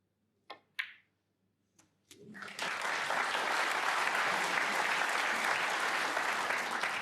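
An audience applauds steadily at a snooker match between Ding Junhui and Jack Lisowski at the 2024 World Snooker Championship. The clapping builds quickly after a few soft taps and holds as a dense, even wash of applause.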